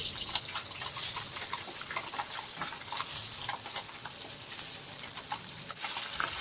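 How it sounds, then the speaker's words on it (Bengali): Tangra fish frying in hot oil, a steady crackling sizzle with scattered sharp pops and spatters throughout, close and fairly loud, with no talking. "আমরা যদি সেই তেলের মধ্যে মাছ ছাড়ি তাহলে মাছগুলো এইরকমভাবে সুন্দরভাবে ভাজা হবে"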